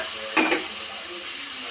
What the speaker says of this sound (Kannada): ಮಿಕ್ಸ್ ಮಾಡಿಕೊಂಡು ಒಂದು 2 ನಿಮಿಷ ಫ್ರೈ ಮಾಡ್ಕೊಳ್ಳೋಣ